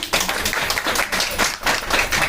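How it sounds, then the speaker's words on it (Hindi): An audience at an Independence Day ceremony claps steadily, with a dense patter of many hands at moderate loudness. "जोरदार तालियां बजाएं"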